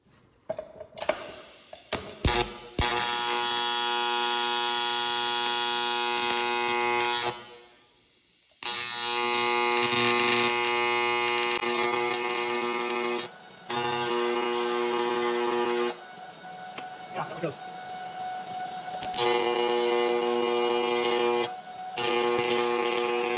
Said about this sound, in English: Not the world's best TIG welder either.